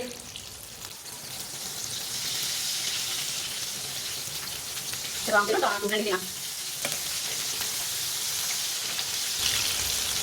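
Shami kababs frying in a pan, a steady broadband sizzle running throughout, with a brief voice murmuring faintly in the middle over the crackle.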